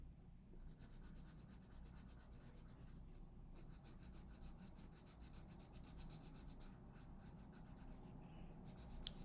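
A pencil colors softly on paper while a monarch butterfly drawing is filled in, a faint, continuous scratchy rubbing in quick back-and-forth strokes with brief pauses, close and quiet.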